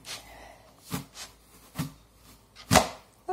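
Knife cutting apples on a board, giving a few sparse, close chops with irregular spacing and quiet gaps between them and one sharper cut near the end.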